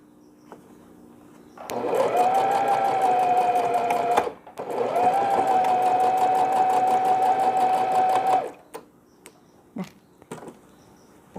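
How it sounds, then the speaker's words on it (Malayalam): Sewing machine running steadily in two long stitching bursts with a brief pause between, stitching fabric for a newborn round pillow, loud and close, then stopping into quiet handling noises. "നേരത്തെ മാർക്ക് ചെയ്ത സ്ഥലം വരെ സ്റ്റിച്ച് ചെയ്യുക."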